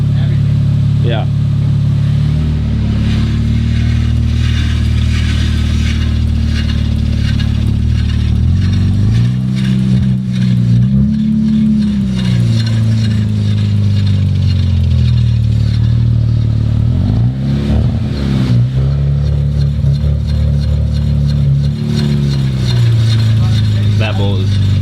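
A damaged 2019 Audi RS5 being rebuilt idles in drive with a steady, loud, low engine drone that shifts slightly in pitch. People talk near the car throughout.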